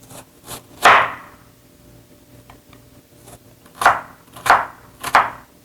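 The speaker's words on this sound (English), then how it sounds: "now we're going to chop some onion. Fine chop onion." Knife chopping onion finely on a board: four crisp, separate chops spaced across a quiet kitchen, one early and three close together near the end, with no talk.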